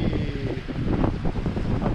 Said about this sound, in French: Avec ce vent fort et cette grosse mer là, ça déferle ici là, c'est impressionnant.